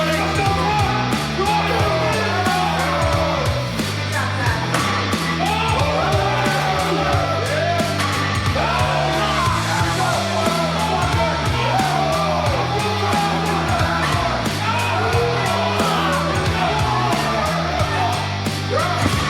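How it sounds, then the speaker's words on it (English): Gym members crowd around and shout encouragement during a heavy lift, a dense wall of overlapping yells and whoops that stays loud and constant throughout. "everyone in the gym will like stop their workout if someone's got like something really impressive going on, you know, and they'll come over and start yelling"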